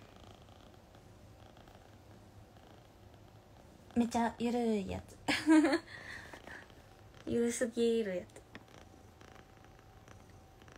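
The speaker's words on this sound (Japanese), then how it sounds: "ゴロゴロがすごい。" A cat purrs steadily throughout with a low, continuous rumble close to the listener, while someone talks over it in short bursts.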